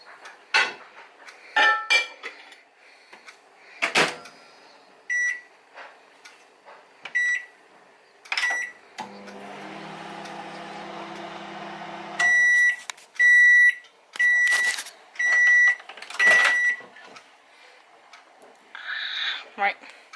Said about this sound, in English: I'm going to just whiz it in the microwave at first because it's not quite soft enough yet